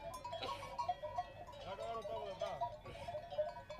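Sheep on a transhumance drive bleat faintly in the distance, a few wavering calls that overlap with a narrating voice.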